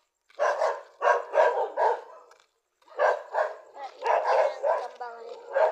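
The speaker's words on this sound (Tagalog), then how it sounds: "So guys, daming aso." Several dogs bark in rapid, rhythmic bursts close by, a pause, then another run of barking, some yips mixed in.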